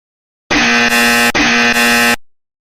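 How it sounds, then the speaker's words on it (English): A loud electronic buzzer sounds in two long harsh blasts, each with a slight shift in tone partway through, then cuts off. "The loud buzzer was coming from the mental handicap radio."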